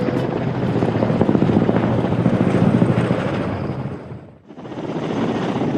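A Ka-226 helicopter roars close by with a steady, dense rotor and gas turbine engine drone that dips briefly near the end before returning at full strength.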